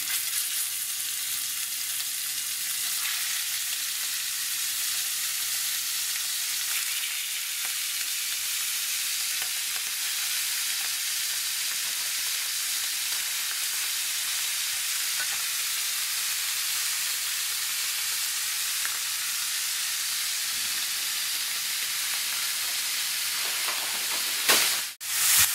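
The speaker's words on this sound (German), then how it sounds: "Und der braten wir uns jetzt im Butterschmalz, im heißen Butterschmalz, rundherum" Beef roulades fry in hot clarified butter, a loud and steady close sizzle that carries on without a break, with a brief clatter at the very end.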